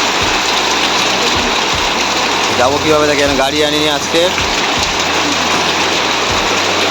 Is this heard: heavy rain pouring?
yes